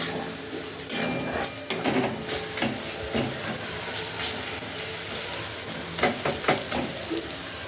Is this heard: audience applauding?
no